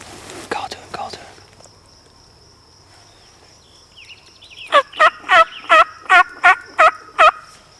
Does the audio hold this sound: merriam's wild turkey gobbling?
yes